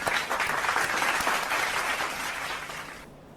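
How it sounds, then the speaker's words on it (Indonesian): Dense, loud applause rises for graduating primary school students of SDK Penabur Bintaro Jaya, a continuous wash of clapping that holds steady before cutting off abruptly near the end. "Mari kita beri tepuk tangan untuk kesuksesan anak-anak kita"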